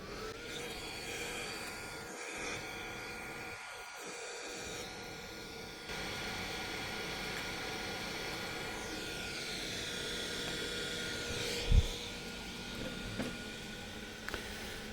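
Hot air rework station running at full blast at 380 degrees with no nozzle, used in an ECM repair on a 2012 Subaru Forester: a steady, loud whooshing rush of air lasting throughout, with a couple of brief knocks near the end.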